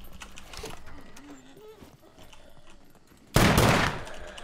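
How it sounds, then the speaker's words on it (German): A single loud gunshot blasts near the end in the SCUM survival game, preceded by quiet talking and low ambient game noise. "zweimal daneben geschossen"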